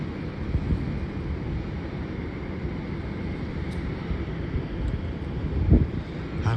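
LAX-bound United airliner rolling down the runway for departure, a steady low roar with wind buffeting heard from a distance, rising slightly near the end.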